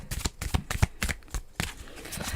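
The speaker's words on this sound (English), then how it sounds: "If y'all don't like the sound of shuffling, let me know" A deck of playing cards is shuffled up close: a rapid series of crisp riffling bursts and soft slaps, repeating in quick uneven rhythm with no talking.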